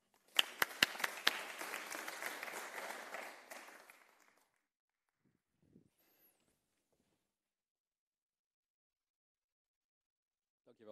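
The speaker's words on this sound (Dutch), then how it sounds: "En mag ik een warm applaus voor Sebastian." A lecture audience applauds a speaker being introduced, a burst of warm clapping for about four seconds that fades out into near silence, with a faint footstep or two afterward.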